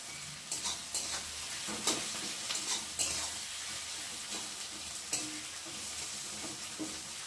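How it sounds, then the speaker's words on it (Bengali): Onions frying in a home kitchen pan give a steady, close sizzle, broken by occasional stirring scrapes and clatters. "পেঁয়াজটা একটু ভাজা ভাজা হয়ে এসেছে"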